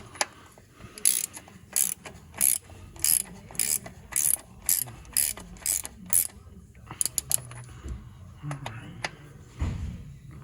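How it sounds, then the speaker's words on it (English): A ratchet socket wrench works on the transmission of an NA Mazda Miata, giving a steady run of sharp, close clicking bursts that slow and thin out toward the end, with faint handling noises between. "Grab my socket."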